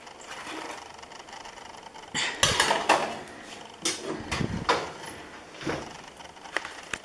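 Metal cupcake tins clank and rattle as they are slid into a preheated oven, with a run of close metallic knocks and scrapes, plus a few quieter clinks trailing off.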